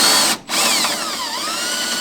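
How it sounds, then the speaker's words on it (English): A drill bit grinds steadily through a hole, loud and close, with a brief dip in the motor's whine before it resumes a continuous high-pitched hum. "You just let the drill bit work."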